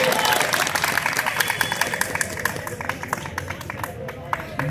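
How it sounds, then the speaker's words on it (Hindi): Audience clapping at an Urdu mushaira poetry recital, a lively burst of many hands with distinct sharp claps, mixed with crowd murmur and voices, tapering slightly toward the end. "एक बार जोरदार तालियां बजा के मेरे हौसला अफजाई कर दीजिए"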